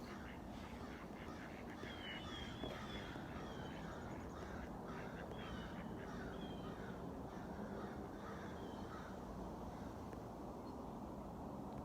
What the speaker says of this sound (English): I got crows crowing. You can hear the crows?